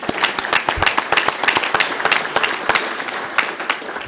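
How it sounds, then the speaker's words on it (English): A room full of people at a planning commission meeting claps for a councilman, with sharp, distinct handclaps in a lively, moderately sized round of applause that holds steady the whole time. "Let's give him a round of applause."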